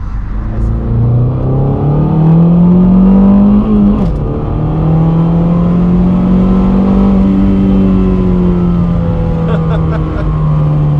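A Mazdaspeed 3 fitted with an upgraded high-pressure fuel pump accelerates hard from inside the cabin, with a loud, continuous engine roar whose pitch climbs through the gears. There are brief pauses at the shifts.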